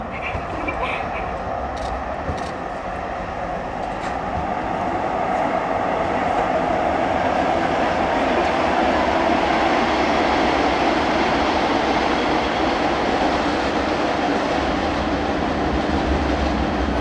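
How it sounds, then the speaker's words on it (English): A train rolls past at a high school graduation ceremony, a steady broad rumble that swells and holds loud throughout, with faint voices underneath. "There's the train."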